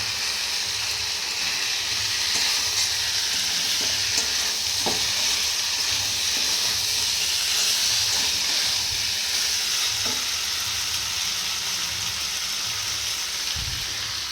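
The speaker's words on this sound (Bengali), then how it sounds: "আর মটরটা এখানে কষছি" Green peas being sautéed in a pan on a home stove, giving a steady close sizzle and frying hiss with occasional stirring scrapes, continuous and without talk.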